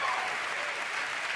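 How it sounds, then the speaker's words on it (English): A crowd at a BlizzCon convention panel gives a short, steady burst of applause, dense clapping filling the hall at even loudness. "Everybody give them a round of applause."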